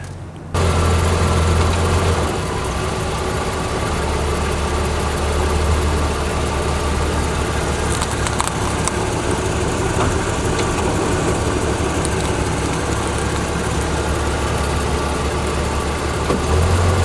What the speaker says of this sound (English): I'm going to jump into the Dodge Dakota right here, and we're going to drive over these and then drive back again.